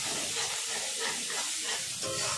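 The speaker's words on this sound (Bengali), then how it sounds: "ভালো করে আমি কষে নেব।" Ginger garlic paste fries with onions in a pan, for a Bengali green jackfruit and prawn dish. A loud, steady, close sizzle hisses without a break throughout.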